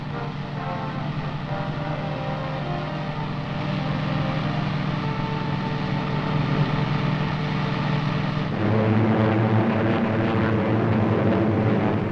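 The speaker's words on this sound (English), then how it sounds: "Allied planes, thousands of them, continued to soften enemy defenses and communications in daily raids." A steady, droning hum of 1944 Allied World War II propeller aircraft with layered tonal whines holds throughout, shifting pitch slightly partway as if an aircraft passes overhead.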